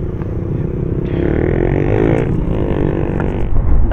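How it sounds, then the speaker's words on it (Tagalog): Motorcycles and cars passing on a busy road, engines swelling and fading one after another with some scraping and clatter, loud and close. "Dami kasing sasakyan dito. Dito talaga sila dumadaan"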